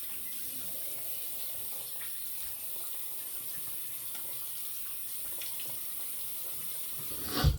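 Tap water runs steadily into a sink to wet a shaving brush, a continuous hiss at moderate level that swells briefly at the end, with no talking.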